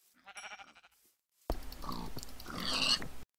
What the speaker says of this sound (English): there's a ton of pigs here